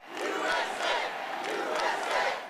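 A big crowd at a Donald Trump rally in the KI Convention Center roars and cheers in loud, rolling waves that swell and dip over a couple of seconds.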